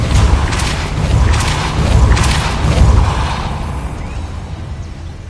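Depulso spell blasts from Hogwarts Legacy, a few heavy thumping booms with mechanical rattling and crackle, loud and close, then fading into a quieter tail.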